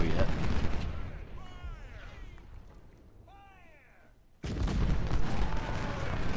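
Artillery and rifle volleys in the Ultimate General Civil War game, with booming shots and crackling musket fire that fade into a quieter stretch with whistling shells, then a sudden loud burst of firing resumes.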